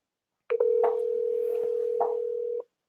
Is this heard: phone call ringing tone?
yes